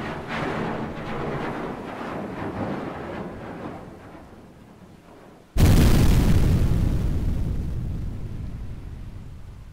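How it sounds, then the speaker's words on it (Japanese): A warship blowing up in a Japanese voice drama: one sudden, massive boom bursts out after a low rumbling stretch, then a long roaring decay fills the rest, loud and heavy with no speech. "一隻の軍艦ワラビに衝突して、ワラビは爆発を起こした"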